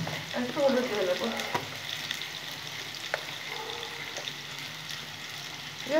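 Food frying in a pan with salt and turmeric gives a close, steady sizzle, broken by a few sharp clinks of a utensil stirring against the pan, with no voices over it.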